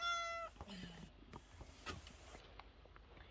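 A cat meows at a grandmother's house on a cold, snowy May Day, a few short meows close by at the start, followed by rustling and soft handling sounds with a person's voice nearby.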